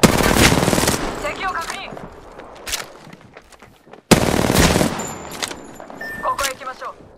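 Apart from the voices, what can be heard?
gunfire in video game Apex Legends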